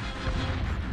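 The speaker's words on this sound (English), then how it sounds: "The explosions are making the haze thicker." Explosions in the video game Arknights, heard as a dense, continuous roaring blast that fills the second with heavy low rumble and crackling debris.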